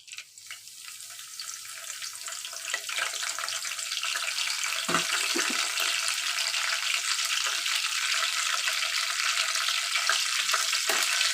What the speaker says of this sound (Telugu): దీంట్లో కరివేపాకు వేసుకుంటున్నానండి